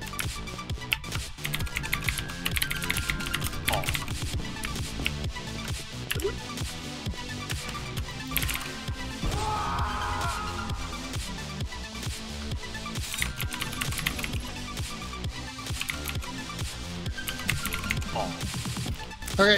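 Fast, continuous typing on a computer keyboard while playing the video game The Textorcist, dense clicking keystrokes mixed with steady game music and sound effects throughout.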